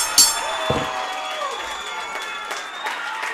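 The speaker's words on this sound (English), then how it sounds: "The crowd is on their feet cheering." A crowd at a live wrestling event cheering and clapping after a pinfall, a broad steady roar with scattered claps and a sharp slam at the start, heard at a distance with no clear speech.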